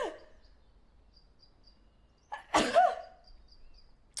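A single sharp sneeze bursts out near the mic in a quiet room, preceded by a short breath and followed by faint chirping in the background.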